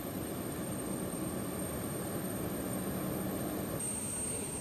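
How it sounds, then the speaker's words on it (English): Conviasa Embraer 190 jet airliner at a Venezuelan airport, a steady continuous engine roar and whine holding even loudness throughout, with no voices over it. "This is our aircraft back to Caracas. It's again Embraer 190 from Conviasa."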